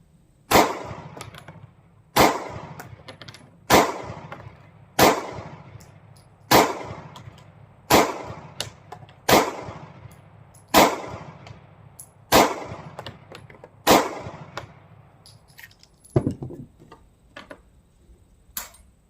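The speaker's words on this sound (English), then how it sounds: "Just trying to check functionality of the firearm." A Sig Sauer P365 pistol fires about eleven sharp, loud shots at a steady pace of roughly one every one to two seconds, each crack ringing out and decaying quickly, with a faint low rumble between rounds and no talking.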